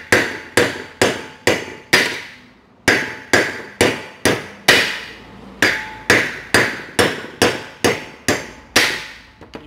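Loud metallic hammer blows drive wheel studs out of a Ford EcoSport or Fiesta hub, struck in quick bursts of three to five evenly spaced hits with brief pauses, close and ringing, no speech.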